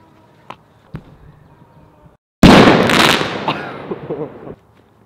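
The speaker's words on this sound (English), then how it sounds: "It just looks really fun to just chuck fireworks." A thrown firework bursts with a sudden loud blast that crackles and hisses for about two seconds, preceded by a couple of small faint pops and quiet outdoor background.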